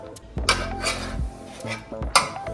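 Hot honey chicken drumsticks being moved onto a plate, with several clinks and scrapes of a utensil against dishes and cookware at an irregular pace, close and fairly clear, with no talking.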